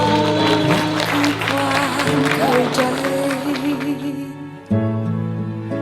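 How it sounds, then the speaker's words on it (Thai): Wedding guests applauding the bride and groom, broadband clapping running under a loud music backing with a voice over it, thinning out near the end. "เอาเสียงปรบมือเลยครับ"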